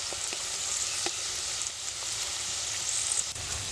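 Beans and carrots frying in a pan, a moderate continuous hiss of sizzling oil with occasional faint clicks from stirring.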